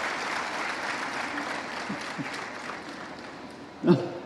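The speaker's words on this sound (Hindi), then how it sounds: "जरा ताली बजाओ तो दिल से बजाओ" Audience applause at the Global Investors Summit 2025, a steady, dense wash of clapping from a large crowd across the whole span, with one brief louder knock near the end.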